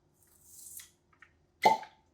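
A cork pulled from a gin bottle gives a faint squeaky twist, then one sharp, close pop, with no one speaking.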